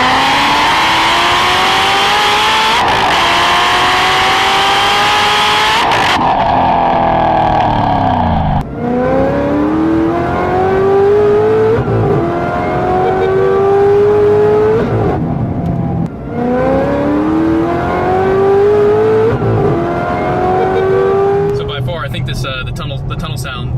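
An 800-horsepower Corvette ZR1 roars through a tunnel, its exhaust echoing loudly as it accelerates hard through repeated rising gear pulls, each shift cutting the climbing howl before it builds again; a voice talks over parts of it.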